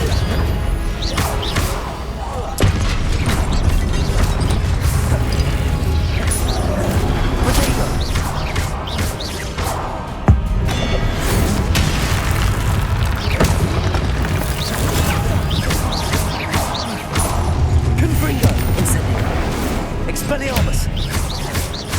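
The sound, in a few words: spell casting and Confringo blasts in Hogwarts Legacy video game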